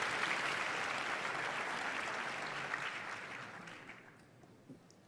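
Crowd applause and cheering at a live SXSW conference interview, a broad, dense roar of clapping that holds steady, then thins and fades out near the end, heard at some distance and fairly faint.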